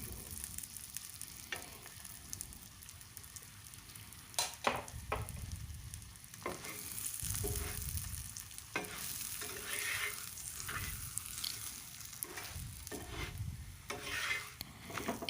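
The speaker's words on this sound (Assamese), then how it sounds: "এই ধৰণে চাৰিওফালে অলপ অলপ ঘিউ দি মই পৰঠাটো ভালদৰে পুৰি ল'ম।" Cabbage paratha frying in ghee on a flat pan, a steady soft sizzle broken by scraping and clinking as it is worked around the pan, moderately quiet.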